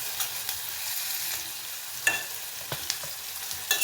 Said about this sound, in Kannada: ನೋಡಿ, ಈರುಳ್ಳಿ ಸ್ವಲ್ಪ ರೋಸ್ಟ್ ಆಗಲಿ.